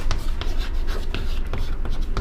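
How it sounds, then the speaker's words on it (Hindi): Chalk or marker scratching and tapping on a board during a biology class, a few quick close strokes in a short burst. "अब लिखते हैं"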